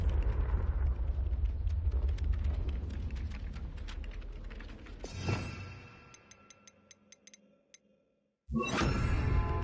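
A fiery spell explosion from a Harry Potter video game erupts with a loud roar, then crackles and rings with bright tinkling debris as it fades. A second sharp burst cuts in near the end, with no voices.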